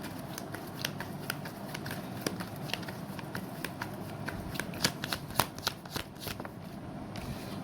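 Tarot cards are shuffled in a continuous, busy riffle of crisp, close flicks and slaps, a brief pause near the end as a card is drawn, with no talking.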